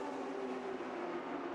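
Diesel race cars at the 2011 Le Mans 24 Hours give off a steady, unbroken roar of tire and engine noise at a distance, with a constant low hum and no distinct passes.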